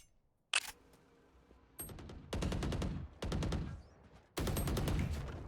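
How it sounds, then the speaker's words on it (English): Bursts of rapid gunfire in the tactical shooter Valorant during a collegiate esports match, several sharp volleys spaced a second or so apart, loud and crisp with quiet gaps between, no speech over them. "Some beginning"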